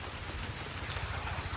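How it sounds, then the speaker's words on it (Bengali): Rain falls steadily over a village in Bangladesh, a continuous even patter close by with no voices, brief and unbroken. "বৃষ্টি পড়তেছে"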